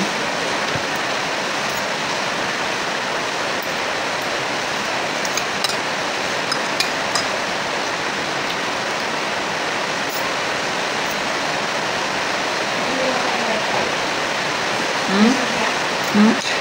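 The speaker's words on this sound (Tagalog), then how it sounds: "Wala kang magawa dyan sa ulan." Heavy, steady rain pouring down during a flood-prone rainy season, a dense continuous hiss that stays loud and unbroken from start to finish, with a few faint knocks and drips near the end.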